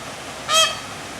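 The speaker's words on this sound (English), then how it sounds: "I think it is a peacock." Peacock call at a Louisiana plantation garden, a single short, bright honking cry rising out of quiet outdoor background, moderately distant and alone.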